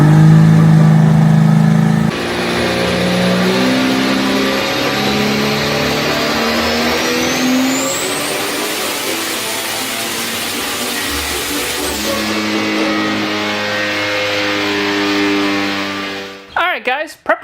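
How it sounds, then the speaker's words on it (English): A 1980 Pontiac Sunbird engine roars on a dyno, holding a loud sustained high-rpm drone with rising pitch sweeps before dropping off abruptly near the end, close and dominant. "it is dyno day for this 1980 Sunbird"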